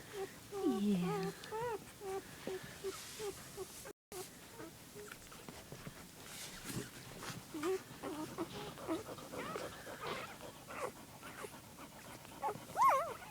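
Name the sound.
newborn puppies whimpering beside their mother dog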